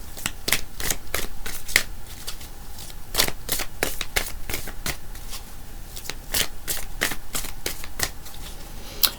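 Tarot cards are shuffled in repeated crisp riffles and flicks, close and fairly loud, in a steady irregular rhythm with no talking.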